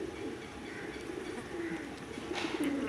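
Pigeon cooing from top flying pigeons kept on a rooftop loft in Pakistan, soft low repeated coos over a steady noisy background with faint bird chatter.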